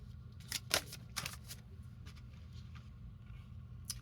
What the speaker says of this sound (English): we're just going to pull a couple of angel